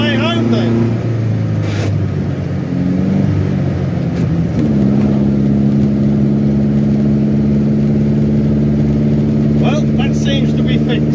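A vintage 12/50 Alvis car driving, its engine note rising and falling as it revs and shifts, loud and steady from inside the car, with a voice talking over it.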